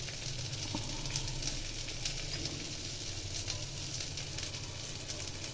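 Dried red chillies and black cumin sizzle steadily in hot oil after fish has been fried, a continuous close frying hiss with soft crackles throughout, no talking.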